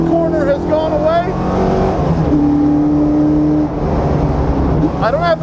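A championship-winning 2002 Mustang Cobra Grand Am race car lapping a track keeps up a loud, steady engine drone with shifting pitch, while the driver talks over it in the cockpit.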